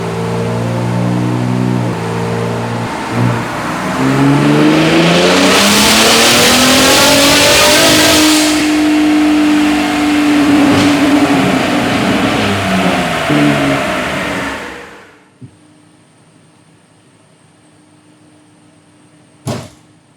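A Gen3 Ford Raptor with Garrett PowerMax turbos roars on a dyno, its engine climbing through a long, loud wide-open pull before cutting off abruptly, leaving faint hum and a brief click.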